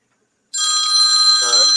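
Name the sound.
mobile phone ringing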